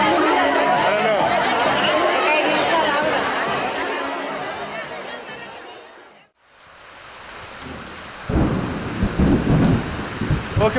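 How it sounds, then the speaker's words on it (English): Heavy monsoon rain pours in a dense, loud roar with deep rumbles mixed in, fading briefly to near silence before the downpour returns and low, rough bursts of thunder break through. "It's been raining crazy like this for the last week."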